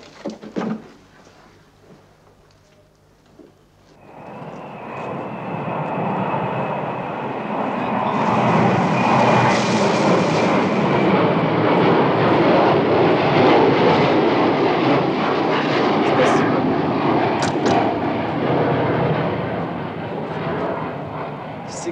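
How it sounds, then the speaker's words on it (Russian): Aircraft roar overhead in a Soviet-era drama set near war, a broad sustained rumble swelling in after a quiet start and holding loud and steady to the end. "Слышишь? Самолеты?"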